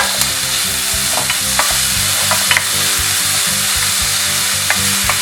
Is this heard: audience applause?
no